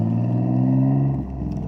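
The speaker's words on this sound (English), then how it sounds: "there's a noise in the background, which happens to be a car" A car passing in the background at a park, a steady humming engine drone with strong low tones that shifts and drops in pitch near the end as it goes by, fairly loud.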